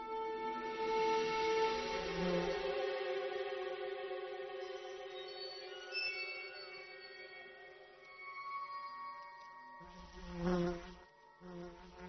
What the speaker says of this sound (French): La guêpe est agacée et mord l'une des fourmis.